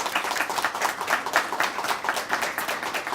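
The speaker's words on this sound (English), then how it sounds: "Let's give her a round of applause." An audience at a school recognition ceremony applauds, steady and fairly loud, with many hands clapping in a dense, continuous patter throughout and no talking over it.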